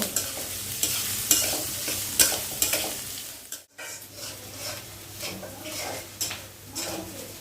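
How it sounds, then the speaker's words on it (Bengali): Chopped onions fry in a pot with cardamom, cinnamon and bay leaves for a mutton curry. A steady sizzle sits beneath repeated close spoon scrapes and clinks against the pot, with a brief dropout midway and no speech. "এখন পেঁয়াজ কুচিটাকে একটু লাল লাল করে ভেজে নিব।"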